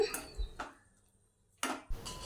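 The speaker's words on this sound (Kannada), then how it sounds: "ಈಗ ಸ್ವಲ್ಪ ಉಪ್ಪನ್ನು ಹಾಕ್ಕೊಂಡು ಮಿಕ್ಸ್ ಮಾಡ್ತೇನೆ" Salt is stirred into vermicelli upma in a pan, producing a few close clinks and scrapes of a spoon against metal separated by a quiet pause.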